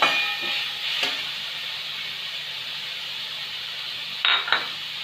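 Chopped onions sautéing in oil for stuffed squid Goan style, a steady hissing sizzle close by, with a few brief sharper clatters from stirring near the start and end.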